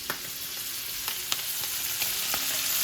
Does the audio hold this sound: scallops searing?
yes